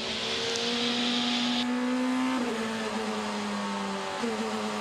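DTM race cars at full speed on the Hockenheimring during free practice, a loud, continuous high-revving engine scream with upshifts and a pitch drop as one car passes close by.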